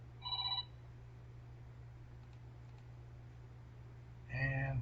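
A telephone rings with a call from a telemarketer, two brief electronic rings about four seconds apart, fairly faint over a steady low background hum.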